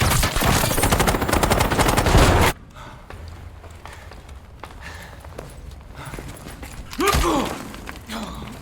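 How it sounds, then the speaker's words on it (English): Loud bursts of rapid gunfire and explosions in a Call of Duty Black Ops 6 campaign cutscene, dense for a couple of seconds, then dropping to a quieter rumble before another sharp burst. "God damn, we're taking fire!"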